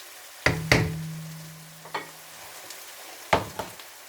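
Chopped onions frying in a pot for vegetable pulao, stirred until brown: a few sharp spoon knocks and scrapes against the pan over a faint, steady sizzle, close and alone without speech.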